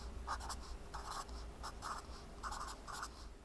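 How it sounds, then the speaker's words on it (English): Pen writing place values on paper, close-up scratchy strokes in short bursts with brief pauses between numbers, steady and fairly quiet throughout. "we just write the place values above it, making sure the leftmost one is negative"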